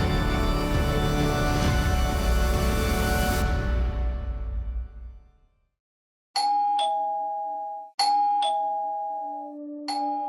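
A doorbell chimes in ding-dong tones three times in close succession, clear and close, after a loud sustained sound fades out into silence.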